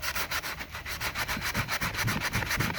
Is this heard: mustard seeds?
no